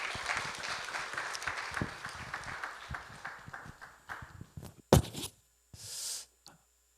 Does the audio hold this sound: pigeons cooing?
no